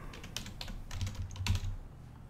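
Rapid bursts of keystrokes on a computer keyboard, close and fairly soft, with short pauses between runs of typing.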